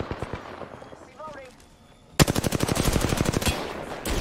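Rapid automatic gunfire from enemies in a video game, a dense loud burst of rattling shots after a quieter stretch with game sounds and voices, continuing steadily to the end.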